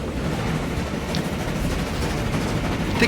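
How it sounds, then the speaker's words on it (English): A steam train rolls along in the game Transport Fever 2, giving a continuous, fairly loud rumble and rattling clatter with no talk over it. "Here goes the train."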